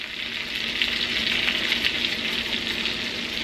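Pork chops sizzle steadily in a hot pan, a close, even hiss and crackle with no pause throughout.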